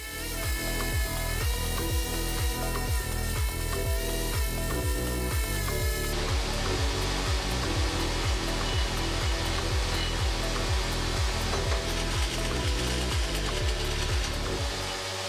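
A homemade twin-motor belt grinder squares up the edge of a rectangular metal part, giving a loud, continuous mechanical whir with steady rhythmic pulsing, joined partway through by a brighter, harsher grinding hiss that persists to the end.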